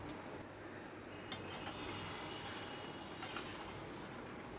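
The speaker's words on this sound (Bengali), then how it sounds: "ঢাকাটা তুলে একটু নাড়াচাড়া করে দিচ্ছি" Chicken is stirred in a covered pan after the lid is lifted, with quiet scraping and a few soft metallic clinks of utensil against cookware against a low steady background.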